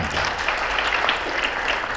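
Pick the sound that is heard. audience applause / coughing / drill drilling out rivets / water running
audience applause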